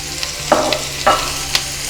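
Onions fry in hot oil with turmeric as a loud, close sizzle, with two or three stirring scrapes in the pan.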